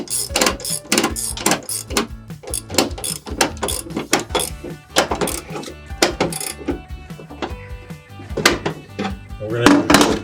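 A strap being ratcheted tight on a Rail Ryder 2 car stacker trolley: rapid, repeated metallic ratchet clicks and clacks in quick bursts, close and loud throughout.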